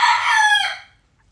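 A single rooster crow rings out loud and close in a home kitchen where chicken liver fry is being cooked, rising then trailing off over about a second, followed by quiet.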